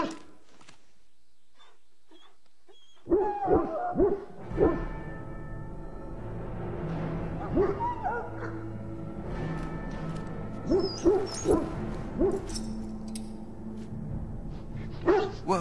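A sick dog in a pen in the fantasy game Dragon Age: Origins whimpers, yips and gives short hooting cries, starting after a silent opening and repeating in uneven bursts over a low game ambience.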